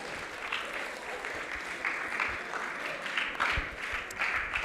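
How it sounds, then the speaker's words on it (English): A school audience at a reading awards ceremony applauds with sustained, fairly loud clapping from many hands that lasts throughout without pause. "can we please clap for her?"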